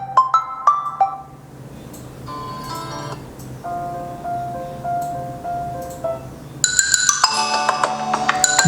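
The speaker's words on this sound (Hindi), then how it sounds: "यहाँ पर जो डिफॉल्ट रिंगटोन आता है OnePlus की तरफ से उसको मैं प्ले करने वाला हूँ" The default ringtone of a OnePlus Nord 2 phone plays from its speaker: bright chiming melodic tones in shifting patterns, growing fuller and louder toward the end, clear and close.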